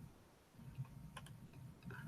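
Light typing on a computer keyboard, faint and close, with scattered soft key clicks in an uneven rhythm and no voices.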